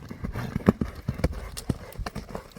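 Horse hooves clip-clop at a horse market in an uneven run of sharp knocks on hard ground, close by, with some background noise around them.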